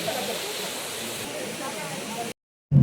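Steady rushing of water flowing under pressure outdoors, a broad constant hiss that cuts off abruptly near the end before a brief low thump.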